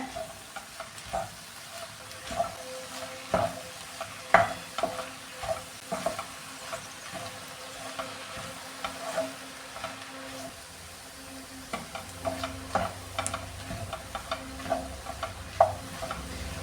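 Kashmiri chili powder and spices frying in a pan for beef curry, a steady gentle sizzle broken by frequent scraping stirs and light taps of a spoon, close and moderately quiet.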